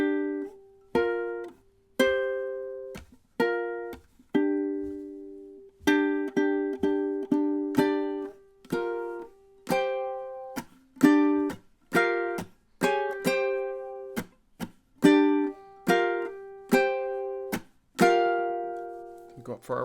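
Ukulele plucks and strums the outro riff of a rock song, bright repeated notes and chords in a steady rhythm with a few pauses, played close and alone, ending on a held chord.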